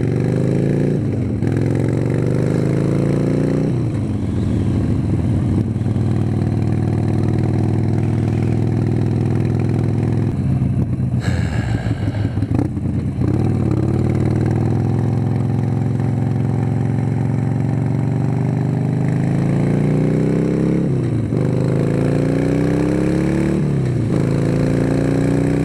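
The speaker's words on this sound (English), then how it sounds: "Now I'm going to head out on the Sportster." Harley-Davidson Sportster motorcycle engine running steadily at close range, idling with a low throbbing rumble and rising into several short revs over about twenty-five seconds, with no talking.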